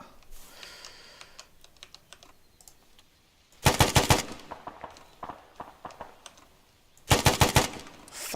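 Machine gun fire in the video game Arma 3: two loud rapid bursts separated by quieter scattered shots and clicks, with no talk over them.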